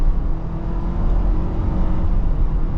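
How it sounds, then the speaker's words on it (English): A 2023 Ford Ranger XLT in sport mode accelerates hard, a loud, steady engine and road roar filling the cabin without pause and with no talk. "if I go ahead and I pop it in to sport mode, and then I punch the car"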